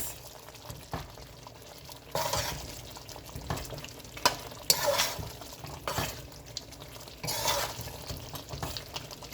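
Jamaican-style sweet and sour pork being stirred in a pan, with soft scraping strokes and wet, saucy sizzling in uneven bursts, fairly quiet and close, with no one speaking.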